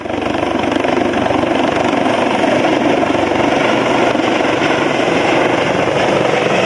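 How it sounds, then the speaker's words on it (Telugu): A helicopter flies over the Godavari Pushkar bathing ghats, a loud, steady rotor-and-engine roar that holds without a break throughout, with no voices. "డిమాండ్ ఎక్కువగా ఉండటంతో 11 సీట్ల రెండో హెలికాప్టర్ ను కూడా రప్పించారు."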